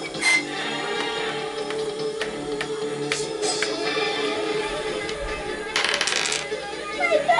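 Dice rattling and tumbling during a game of the Atmosfear board game, a run of small clattering hard knocks with a sharper burst near the end, heard close amid room noise.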